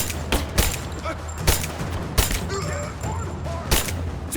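Gunfire in the video game Rise of the Tomb Raider: sharp, separate shots crack out at irregular intervals over a low background hum, while voices shout callouts between them.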